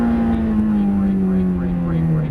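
Ferrari engine droning steadily as the car accelerates out of a corner on a track, a strong low tone rising gradually over the full stretch, with a driving coach talking over it.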